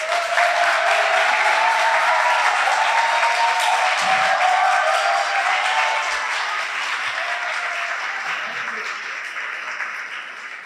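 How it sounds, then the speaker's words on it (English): Sustained audience applause at an honor society induction ceremony for the student inductees, loud and even at first, then gradually thinning and fading over about ten seconds, with a faint voice briefly heard. "Let's give them all a round of applause."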